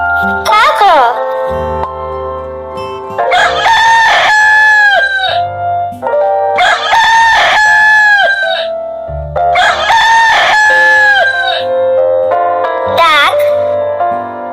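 A rooster crows in a children's animal-sounds song, its cock-a-doodle-doo repeated three times, loud and close over a steady musical backing with a brief jingle between calls.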